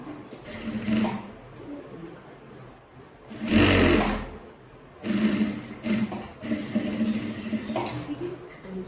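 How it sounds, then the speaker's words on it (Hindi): Sewing machine stitching a drawstring into a kurti, running in short close bursts of rapid whirring, stopping briefly between runs, with one louder burst midway. "इस डोरी को इसमें बीच में रख के और यहाँ तक वापस हमें क्या कर देना है, सिलाई लगा देना"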